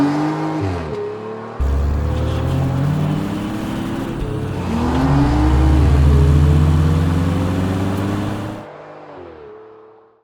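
A car engine revs hard while driving, loud and close, its pitch sweeping up and down through repeated surges before the sound cuts out and briefly fades away at the end.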